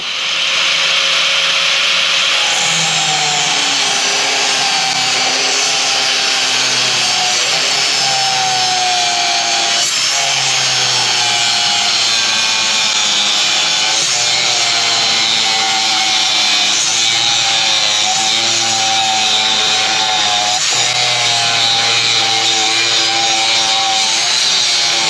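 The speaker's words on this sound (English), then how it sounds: "I'm going to get the grinder here now." An angle grinder cuts through a steel plate for a farm gate, a loud, harsh, continuous whine that rises and dips repeatedly as the disc bites into the metal.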